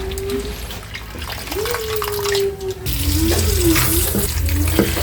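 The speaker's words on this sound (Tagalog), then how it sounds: "hugasan natin siya para maalis yung Alat." Salted, squeezed cabbage for a pickle is rinsed under a running kitchen tap, a steady close splashing stream with a voice heard faintly at times.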